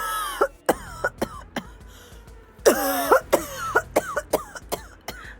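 Harsh, repeated coughs in a choking fit come in sharp bursts, with strained wheezing gasps between them. The sounds are close and fairly loud, with no speech.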